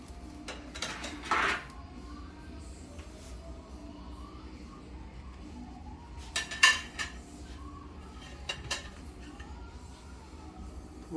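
Plates and metal tongs are handled in a home kitchen while cooking Italian sausage, giving a few short clinks and clatters, one near cluster early and another in the middle, over a low steady room hum.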